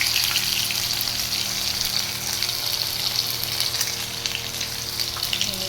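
Ginger paste and chopped tomato sizzling in a pan as they are stirred, a steady close hiss of frying with a faint low hum underneath, no voices.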